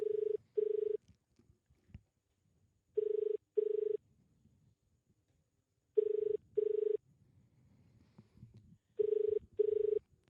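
A telephone rings in a repeating double-burst pattern, four pairs of rings spaced evenly across the stretch, close and clear, with faint background murmur between them.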